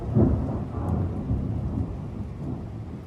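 Thunder rolls and rumbles through a thunderstorm in Metz, a deep, sustained low growl with rain hissing underneath, fairly close and heavy, with no voices.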